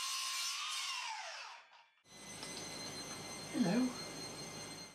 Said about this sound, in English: The first piece can just be cut to fit, and I brought my mitre saw along for this job.